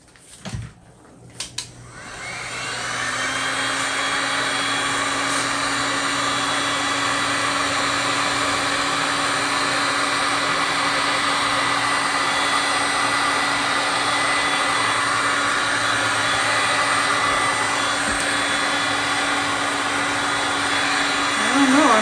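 A blower or heat-gun-style air tool runs steadily and loudly, pushing marbled resin across an existing table top; a continuous whooshing roar starts after a few quiet seconds with brief clicks and carries on to the end.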